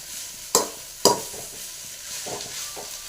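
Drumstick (moringa) leaves fry in oil in a pan while they are stirred. Two sharp spoon knocks ring out against the pan over a soft, steady sizzle, then gentler scraping strokes follow. No voices.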